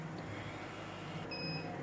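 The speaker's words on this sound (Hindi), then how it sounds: "ऑन करते सारी ये टी टी की बीप बीप की आवाज़ देने लग पड़ेगी" A fully automatic 240-egg incubator just switched on gives off a thin, continuous high electronic beep over a steady machine hum, close by and moderately loud.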